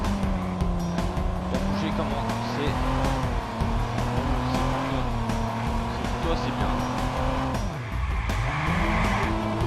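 Car engine in the video game Watch Dogs, driven hard with tire squeals and skids, the engine tone rising and dipping throughout, while someone talks over it in French.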